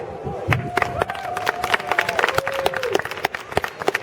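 Audience applause and scattered cheers greet a Jewish charitable foundation's folk song vocal-instrumental ensemble as it walks on stage, with a steady clatter of claps and a faint sustained tone running beneath.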